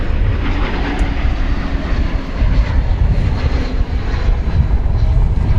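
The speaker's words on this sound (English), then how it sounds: "It's American Flight 1931 from Phoenix, Arizona. An Airbus A321." An American Airlines Airbus A321 jet airliner on an American flight from Phoenix, heard at DFW Airport as a loud, close, rumbling engine roar that is sustained and slightly fluctuating, with no talking.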